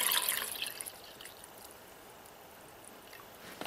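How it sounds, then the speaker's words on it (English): Water poured into a solar-powered coffee maker, a faint steady trickle with brief splashy bursts at the start and end. "I'm going to fill it with some water, which I happen to have here with me."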